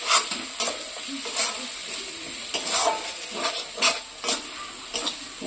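Masala sizzles in a pan with Kashmiri chili powder and black pepper, a constant frying hiss broken by regular scraping stirs of a spatula, close and fairly loud.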